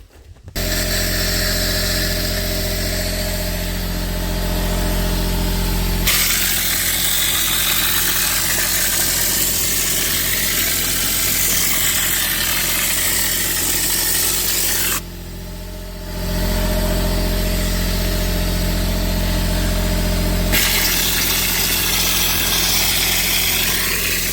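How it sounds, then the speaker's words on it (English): An air compressor working for wet dashing gives a loud, close, continuous engine-like drone and vibration with steady hum tones. The noise shifts character twice and dips briefly before resuming, and there is no speech. "I can't start the compressor now because you won't hear me talk"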